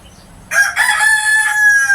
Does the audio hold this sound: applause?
no